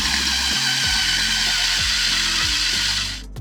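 A power drill whines steadily as it bores out a bolt hole, its motor pitch dipping and recovering repeatedly as the bit bites in.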